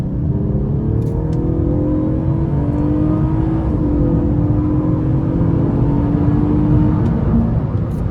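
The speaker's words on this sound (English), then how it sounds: "The exhaust sounds so good. The engine does a great job." A 2017 Honda Accord V6 Touring's engine drones loudly from inside the cabin, its exhaust note rising steadily as it accelerates through a long pull, with no talking.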